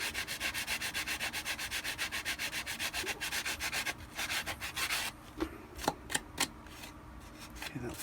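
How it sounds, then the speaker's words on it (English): Sandpaper rubs rapidly back and forth over a plastic armor part in steady rasping strokes, close and loud, then gives way to a few scattered taps and handling knocks. "So now I'm just going to use my sandpaper. Sand this down."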